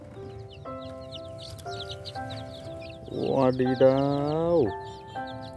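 Colourful chickens cluck and squawk amid a playful electronic tune, with an excited voice exclaiming loudly partway through.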